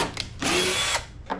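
A power drill bores a pilot hole in the hull of a plastic jon boat, a short close whine rising for about half a second between quick trigger blips.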